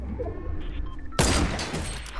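A Fortnite sniper shot rings out as a sudden loud crack and burst after a quieter stretch of game ambience.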